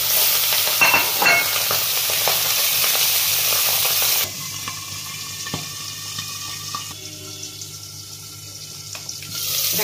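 Pabda fish frying in oil, a loud crackling sizzle close up that drops abruptly to a softer, steady hiss with occasional pops, with no talking.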